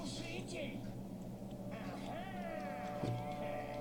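A cat in a Harry Potter video game meows in a few short, rising cries over steady game music and ambience, with someone talking briefly underneath.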